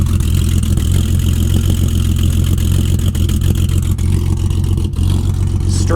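BMW 325xi e46 with a straight-pipe exhaust, no catalytic converters and no muffler, idling at steady close range: a continuous deep rumble that holds even throughout with no revs and no talk.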